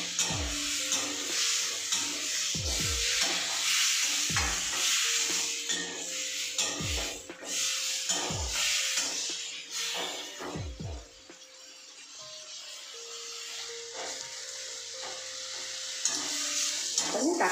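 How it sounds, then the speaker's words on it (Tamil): Tomatoes sautéing in a pan for a tomato, onion and garlic chutney: a constant hissing sizzle broken by regular scraping stirs about every second and a half, with a faint tonal background underneath. "தக்காளி வந்து நல்லா வதக்கிடுங்க."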